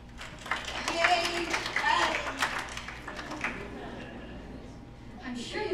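Audience applause at a school performance of a Grease hand jive dance number, a moderate wash of clapping that swells early, mixed with cheers and voices, then tapers off as talk and noise continue.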